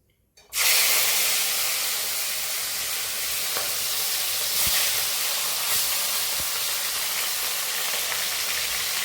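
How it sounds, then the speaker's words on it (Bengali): Pieces of knife fish (chital) dropped into hot oil, a sudden loud sizzle that settles into a steady, continuous frying hiss with occasional faint pops. "এবার 4 পিস মাছটা আমি একটু ভেজে নিই।"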